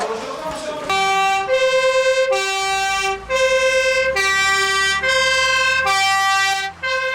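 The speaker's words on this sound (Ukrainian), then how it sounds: "Для Наталії Батир сирена означає виклик на подію." A fire engine siren wails nearby in long rising and falling tones, repeating several times with a brief break, loud and dominant.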